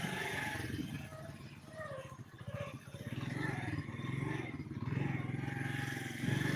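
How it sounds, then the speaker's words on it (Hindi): A motorcycle rides over potholes on a rough road past a mosque. A low engine rumble runs throughout, with scrapes and clatter from the bumps, all fairly faint and somewhat distant. "खड्डों से मैं मोटरसाइकिल टपा रहा हूँ।"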